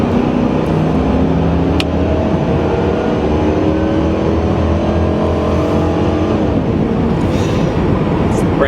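A 1996 Chevrolet Impala SS cruises along at steady speed, its engine droning evenly and close with a low, continuous rumble and faint road noise throughout, shifting slightly in tone toward the end.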